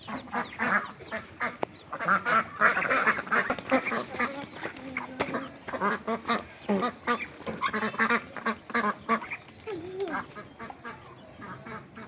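Ducks quack repeatedly at close range in a rural setting during antibiotic treatment for paralysis, with dense overlapping calls throughout and occasional human voices mixed in.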